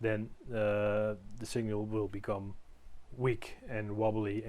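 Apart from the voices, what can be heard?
No distinct noise like a dog, phone or traffic.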